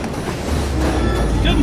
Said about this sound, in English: Why does he have to take out an entire train to attempt to kill them?